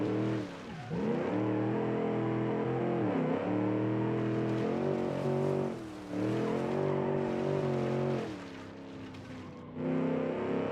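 A video game car's LS3 engine revs hard and steadily, the loud motor rising and dipping in pitch with a few brief lifts off the throttle.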